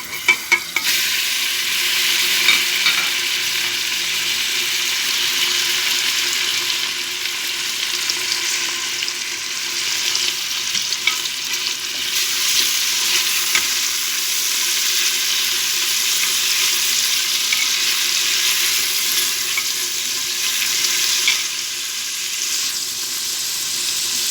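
Meat goes into melted butter in a pan and fries with a loud, steady hiss that holds for the whole stretch, dotted with faint crackles and no voices.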